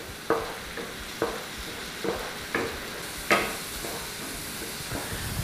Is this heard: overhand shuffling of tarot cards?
no